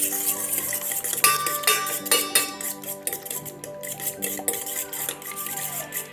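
A fork briskly beats a cracked egg with a pinch of salt in a bowl. It makes quick, rhythmic clinking and scraping strokes against the bowl, fairly close and steady, with no talking.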